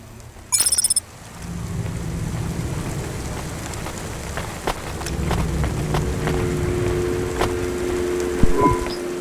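Rain falls steadily in the rainy city of the video game Cloudpunk, a continuous wash with scattered droplet ticks, after a brief electronic beeping burst at the start, and no talking.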